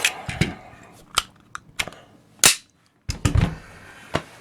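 Jimenez Arms JA9 pistol fires several sharp, close cracks in an uneven sequence, with a brief silence before a final burst of shots.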